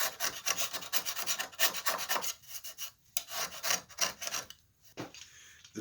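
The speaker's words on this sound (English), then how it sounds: "The original glue that was used on these joints was hide glue, and we need to get that scraped off as well as possible" Old hide glue is scraped off the wooden joints of a 150-year-old headboard: a steady run of rhythmic rasping strokes, close and fairly loud, that thins into scattered scrapes toward the end.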